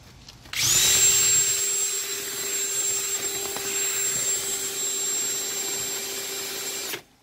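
An electric drill spins a mixer paddle in aircrete cement mix, a loud, steady high whine starting abruptly, holding constant for about six seconds, then cutting off.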